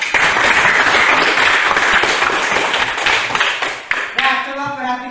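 Clapping from a classroom audience during a geometry lesson, dense and close for about four seconds, then breaking off as a voice starts talking.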